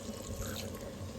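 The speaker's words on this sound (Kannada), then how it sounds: "ನೀರು ಹಾಕ್ಕೊಂಡು" Water is poured into a grinder jar holding roasted masala and fresh coriander for chicken chops, giving a brief, soft, close trickling splash.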